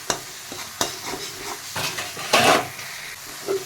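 Tempering (tadka) with tomato frying in a pan for mustard greens, with soft sizzling under stirring scrapes and a few sharper utensil knocks, close by and alone without voices.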